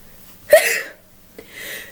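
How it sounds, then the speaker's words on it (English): A single sneeze bursts out at about half a second, sharp and close, followed by a softer breathy exhale a moment later, with no talking over it. "I'm gonna sneeze."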